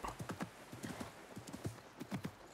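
Hooves of a horse galloping in the video game Assassin's Creed Mirage clip-clop in quick, uneven beats, fairly faint and close, with no talk over them.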